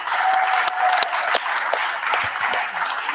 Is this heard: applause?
yes